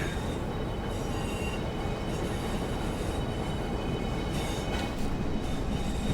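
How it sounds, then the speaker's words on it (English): Intercity train passing on a UK line worked by electric token block, a steady loud rumble and rattle of wheels on rails with faint squeal, sustained throughout. "And the intercity."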